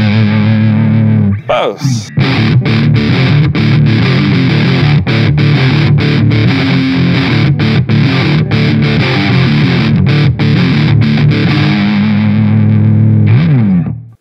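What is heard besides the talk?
distorted Squier Affinity Stratocaster electric guitar, neck pickup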